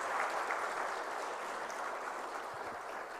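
A crowd claps steadily through a Foundation Day ceremony for the Institute of Company Secretaries of India, filling the hall with dense, even applause that eases slightly toward the end, with no speech over it.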